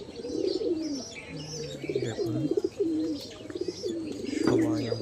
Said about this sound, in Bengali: দেখেন আমার কবুতরগুলো কত সুন্দর ডাকা ডাকছে